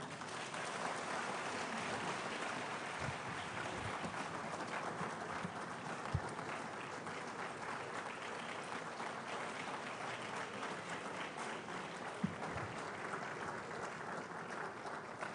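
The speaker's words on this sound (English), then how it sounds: "A louder round of applause to our Speaker, Honorable Kyei Mensah Bonsu." Steady applause from a large crowd at a Ghanaian parliamentary event, heard at a distance and fairly faint, continuing evenly without pause.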